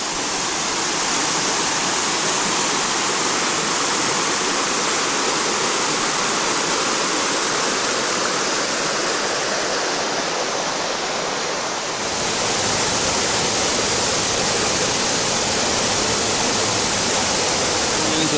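Big Creek rushing through Walnut Bottoms in the Smoky Mountains backcountry, a loud, steady broadband roar of flowing water that never lets up, with a slight shift in tone partway through.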